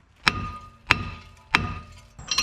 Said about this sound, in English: Get a hammer and whack it